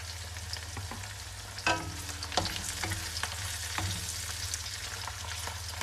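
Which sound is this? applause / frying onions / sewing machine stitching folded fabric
frying onions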